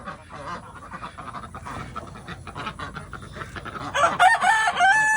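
Chickens on a muddy homestead farm, with goats and ducks kept nearby, cluck steadily close by, and a louder, sharper burst of calls rises near the end.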